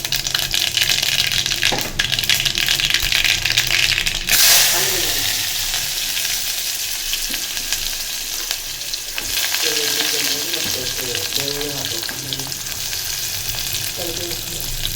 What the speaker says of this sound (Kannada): ಇದಕ್ಕೆ ಇವಾಗ ಈರುಳ್ಳಿ ಹಾಕೋಣ.